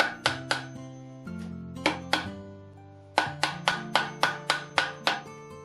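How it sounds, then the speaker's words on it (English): A hammer taps pipe pieces together in quick bursts of sharp, ringing metallic strikes, two to six blows at a time with short pauses between, close and clear. "you'll probably need a hammer to tap that down so those 2 pieces come together all the way"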